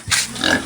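A month-old farm pig, around 40 kilos, gives a short close grunt with a second rougher snort following, heard alone.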